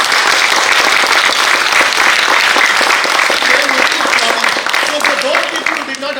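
Another row of the crowd at a Philippine corporate awards event bursts into vigorous, sustained clapping, loud and dense throughout before easing off in the final second.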